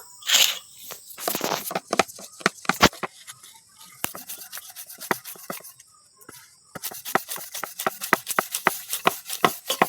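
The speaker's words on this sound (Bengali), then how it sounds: "সব লেচিগুলো আমার গোল করে নিয়েছি, এবারে আমি বেলে নেব" A rolling pin flattens small flour-dusted dough balls thin like flatbread on a board, giving close, repeated soft knocks, rubs and scrapes in uneven bursts with a short lull midway.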